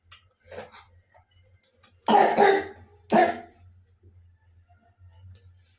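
A child gives two sharp coughs about a second apart, close and fairly loud, with faint murmuring before them and a low steady hum underneath.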